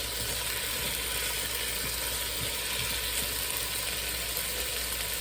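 Potatoes with garlic and onions sizzle in a hot pan, a steady dense crackling hiss that stays loud and even from start to end, with no voices.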